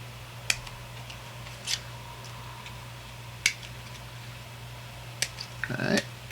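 Sharp single snips of cutters clipping a plastic model kit part from its sprue, a few isolated clicks spaced seconds apart with a small rattle of handling at the end, over a steady low hum in a quiet room.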